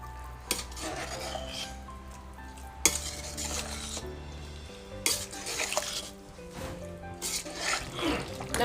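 Chicken biryani being gently mixed in a single pot, with repeated scraping and clinking of a spoon against the pot, soft sizzling underneath, and a few louder knocks between strokes.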